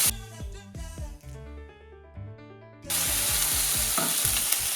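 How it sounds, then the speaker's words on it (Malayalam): Mustard seeds crackle and pop in hot oil for a thoran made with tuna, a dense spluttering sizzle that turns louder and steadier partway through, with a tonal background sound underneath and no talking. "എണ്ണ ചൂടാവുമ്പോൾ അതിലേക്ക് 1/2 ടീസ്പൂൺ കടുക് ഇട്ട് പൊട്ടിക്കുക."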